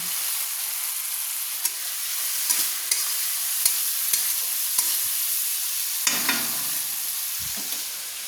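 Spice masala fries in oil for chicken kosha, a soft continuous sizzle broken by repeated sharp scrapes and clicks of a spoon stirring in the pan, with no voices.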